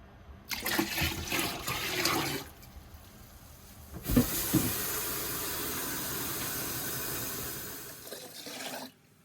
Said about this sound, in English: I just have to add about 8 more liters of water or so.